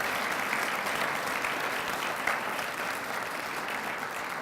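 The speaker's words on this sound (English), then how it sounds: "How about a round of applause for Lori and all our GSD recipients?" Steady applause from a university audience at a research lecture, honouring Lori and award recipients; dense, even clapping fills the whole stretch at a constant level with no speech.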